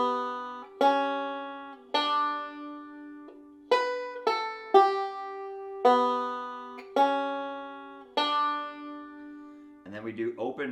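An intermediate-level banjo picking a phrase of the Star Spangled Banner, a string of separate plucked notes with bright attacks that decay quickly, played unaccompanied at a moderate pace, with a brief faster flurry at the end.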